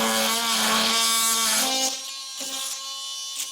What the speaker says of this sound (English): I'm going to use an oscillator today and get this trimmed out.